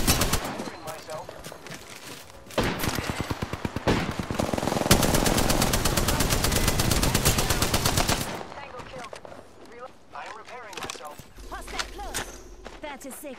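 Rapid automatic gunfire rattles in the Apex Legends video game, a sustained loud burst of fast shots lasting several seconds, with scattered quieter shots and in-game voices around it.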